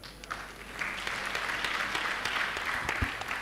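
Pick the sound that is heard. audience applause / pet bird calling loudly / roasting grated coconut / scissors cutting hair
audience applause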